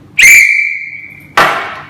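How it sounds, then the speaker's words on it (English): A sports whistle is blown loudly and up close: one long, steady shrill blast, then a second, shorter blast after a brief gap. "Sports whistle."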